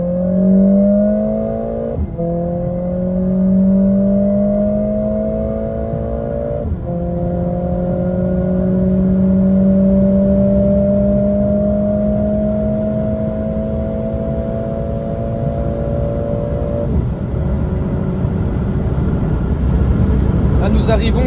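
A Mercedes CLA45 S AMG in Sport Plus mode accelerates hard toward top speed, heard from inside. The loud engine drone climbs in pitch through several gear changes, and wind and road roar build toward the end.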